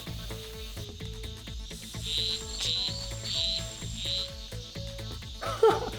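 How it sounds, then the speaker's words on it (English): Frogs calling at night amid a steady chorus of crickets and insects, with repeated short croaking notes over continuous high chirping, fairly close and moderately loud, no talking. "if we're super quiet and we hear the right call, we can get up close to the frog"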